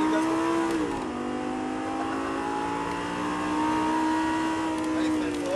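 A race car on a track drops in pitch under hard braking, then engine tone climbs steadily as it accelerates again, loud and continuous with a voice talking over it.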